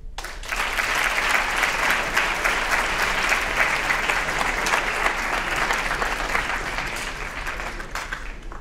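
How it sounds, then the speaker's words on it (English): Sustained audience applause fills a school writers' event hall, a dense, steady wash of many hands clapping at even loudness for about eight seconds before tapering slightly at the end. "Let's get one more round of applause for that."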